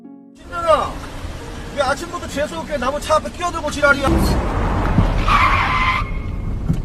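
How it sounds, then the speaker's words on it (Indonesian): In a Korean film scene, a car arrives to block someone's path, its tires skidding in a sharp squeal near the end, after engine and background noise beneath a voice talking. "Tak berselang lama, datanglah sebuah mobil yang hendak menghadangnya."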